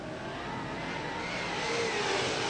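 Super sedan race cars at a race restart on the Newcastle Motordrome oval, a steady dense roar of engines building slightly louder toward the end, with no voices.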